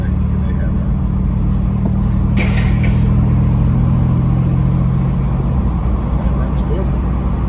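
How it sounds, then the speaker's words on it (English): Turbocharged Acura Legend engine idling with a steady low rumble, a brief high turbo whistle rising about a third of the way in, heard close and loud. "that's the turbo's full up, and that's like the whistle from the turbo"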